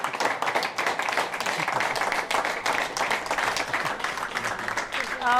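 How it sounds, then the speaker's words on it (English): A theatre audience in Liverpool claps and cheers in a sustained, dense burst of applause with whoops, while a voice speaks briefly over it near the end. "So I'll have one big cheer from you guys tonight for them."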